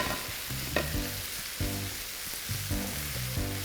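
Thinly sliced shiitake mushrooms stir-fried with vegetables in a home pan, a steady close sizzle broken by a few clattering scrapes and tosses of the spatula.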